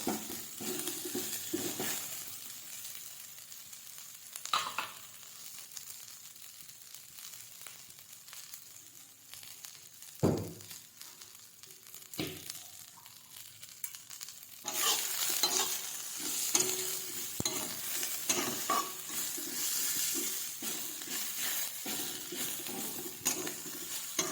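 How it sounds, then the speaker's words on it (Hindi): Ingredients are roasted in ghee in a frying pan, with steady stirring scrapes over a soft sizzle and occasional louder clinks. Near the end the frying grows into a brighter, more intense hiss. "तो अभी मैंने घी डाला है और घी में रोस्ट कर रही हूँ इसे।"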